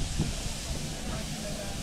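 Steam locomotive on the Tenterden to Bodiam heritage railway hissing at the station, a steady, close, broadband hiss with a low rumble underneath.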